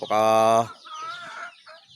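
Pet chickens make a loud, sustained squawking call that breaks off into softer clucking and murmurs, close by, with no talking.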